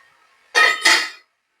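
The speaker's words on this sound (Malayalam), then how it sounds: "നമുക്ക് അതിന്റെ മൂടി ഒന്ന് തുറന്ന് നോക്കാവേ" A metal lid lifted off a pot of cooking liver fry, giving two quick, bright metallic clinks in close succession, near and clear against silence.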